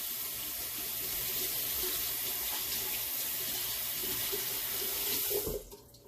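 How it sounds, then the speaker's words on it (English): Hands washed under a running sink tap after handling egg yolk while making strawberry swirl cheesecake: steady close splashing rush of water for about five seconds, then the flow cuts off and fades to quiet. "and then you just wash your hands"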